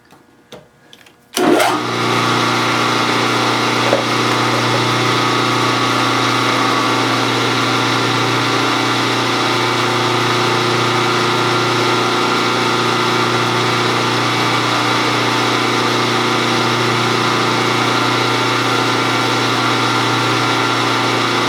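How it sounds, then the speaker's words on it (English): A machine starts up with a few clicks and then settles into a loud, steady whirring drone for about twenty seconds while drilling a rocker arm in a metal shop. "I'm gonna drill it."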